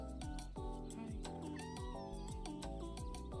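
A cartoon cat in the cozy street-management game Minami Lane gives a short meow over the game's bouncy music.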